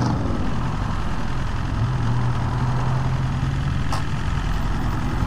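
A BMW S1000RR sport motorcycle engine idles steadily while warming up, a continuous close, loud rumble with a constant low drone that rises slightly partway through, heard alone with no talking.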